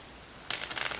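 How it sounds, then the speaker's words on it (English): Tarot cards shuffled by hand in the second half: a short burst of dense, crisp riffling flutters, close and fairly soft, following a near-silent start. "Let me shuffle this a couple of times here."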